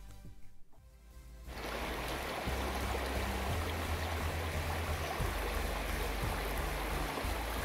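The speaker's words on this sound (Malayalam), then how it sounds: "സാക്ഷാൽ പെരിയാർ നദിയാണ് നമ്മുടെ മുന്നിലൂടെ ഈ ഒഴുകുന്നത്" The Periyar river at Panamkuzhy flows past in a steady, full rushing wash that rises after a quiet start and holds evenly, close and moderately loud.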